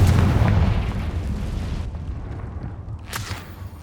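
A Confringo fire spell explosion in Hogwarts Legacy gameplay inside a cave: a loud, heavy boom that rolls off into a rumbling decay, followed by a sharp crackle near the end.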